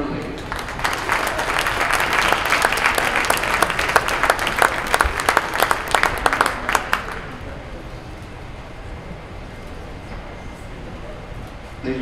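A gym crowd at a high school wrestling meet applauds the twelve honored seniors, a dense burst of clapping for about seven seconds that then cuts off, leaving a faint room hush.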